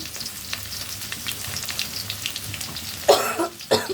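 Chopped garlic dropped into hot oil for dal tempering, a low steady frying hiss that bursts into a loud, bright crackling sizzle near the end, close by.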